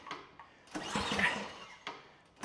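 A Poulan Pro snow blower with an LCT engine being pull-started without catching: a few quiet recoil pulls, one longer rattling crank in the middle, then silence between short tugs, faint and close.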